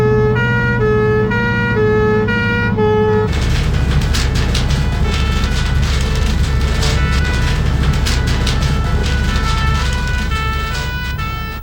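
Fire engine siren wailing loudly and close, a 13-tonne pump engine at speed on an emergency run, its tone cycling steadily alongside rumbling traffic and horn blasts throughout.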